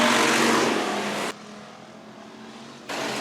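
Race cars at Worthington Speedway roaring loudly through the turns on the dirt oval, a dense broadband engine roar that suddenly drops to a quieter, duller rumble mid-clip before surging back loud at the end.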